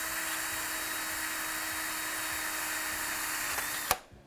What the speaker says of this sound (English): I'm going to drill a pilot hole here